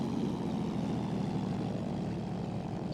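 A propeller-driven light aircraft engine in the X-Plane 11 flight simulator at a quaint country airfield drones steadily and loudly throughout, a continuous low throbbing hum with no talking.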